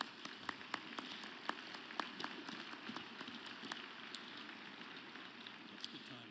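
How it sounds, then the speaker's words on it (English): Faint, distant audience applause rises for international debate network guests in a large hall before a presidential debate, a soft continuous patter of many hands with occasional sharper claps. "let's give them a round of applause"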